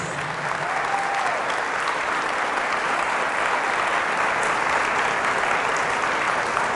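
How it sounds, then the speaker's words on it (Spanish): Loud, dense applause rolls through a church during a Pentecost Mass, an unbroken wash of many hands clapping at once with no talk. "Fuertes aplausos a Jesús"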